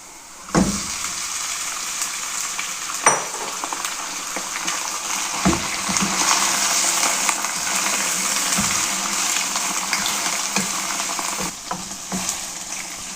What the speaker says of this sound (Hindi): तो यहाँ पे जी अनियन फ्राई हो गए, और अब हम शामिल करने लगे हैं चिकन